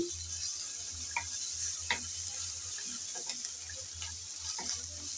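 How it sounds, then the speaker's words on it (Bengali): Ginger, garlic and onion fry in a pan with a continuous soft sizzle, while a spoon scrapes and taps against the metal at intervals, close and moderately quiet. "আদা রসুন পেঁয়াজের সাথে একসাথে ভালো করে বেজে নিচ্ছি"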